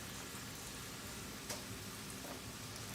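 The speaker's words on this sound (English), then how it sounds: "Now we're gonna go ahead and add our chopped onions and sweet peppers that we did before." Chopped onions and sweet peppers fry in a pan with a faint, steady hiss and a few soft pops, quiet and uninterrupted, with no voices.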